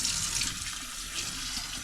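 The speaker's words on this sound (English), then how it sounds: "run it under cold water and wash it out" Cold tap water runs steadily through a fine strainer, rinsing shredded cabbage for a pork wonton broth: a continuous close splashing hiss with no talking.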